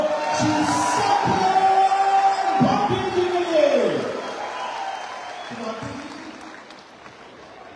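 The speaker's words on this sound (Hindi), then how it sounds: "पूरा हमारे इस पूरे मंच को एक बार जोरदार तालियां फिर से होनी चाहिए लोगों" Seminar audience cheering and clapping loudly, a dense wash of applause and whoops carried along under a voice speaking over the crowd, easing off toward the end.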